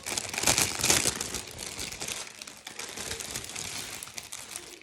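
Packaging crinkles and rustles near at hand as a large A3 item is opened during an unboxing, soft steady crumpling with a few sharper crackles.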